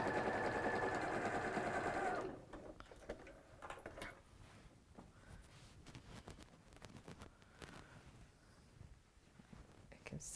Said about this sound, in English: I'm going to sew along my fold again